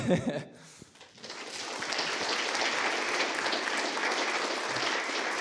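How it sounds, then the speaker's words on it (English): Steady applause from an audience at a documentary screening event, starting after a brief moment of quiet and then holding as a dense, even clatter of many hands for several seconds. "Thank you for such a friendly applause"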